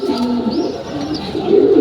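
Domestic pigeons at a pigeon farm give steady, overlapping low cooing, close and fairly loud, with soft warbling swells and no talking.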